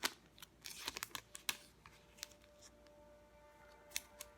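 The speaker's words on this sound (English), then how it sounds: "let me get rid of the tape here" Packing tape peels and rips off a comic book package in a few sharp tearing bursts, then quieter rustling and crinkling of paper and plastic, close and faint.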